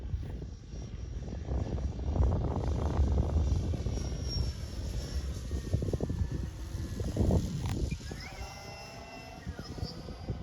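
Electric Seagull Westland Lysander model aircraft on its maiden flight at a flying club field, a faint steady whine drifting in and out at a distance over light breeze and background rumble.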